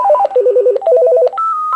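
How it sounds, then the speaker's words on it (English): Loud electronic melody from a Uniden D3098 cordless telephone, a quick run of beeping synthetic tones that ends on one held high note, played alone at close range. "let's get a personal ringtone for us"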